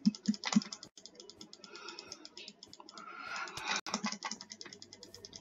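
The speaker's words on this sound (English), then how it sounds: "Hear me spam clicking." Rapid bursts of mouse clicking during a computer game, crisp repeated clicks in quick clusters with keyboard-like clatter, close and fairly loud throughout with no speech.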